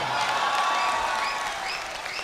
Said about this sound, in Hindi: जोरदार तालियों से आमंत्रित करें आदरणीय सबाना शबनम उज्जैन।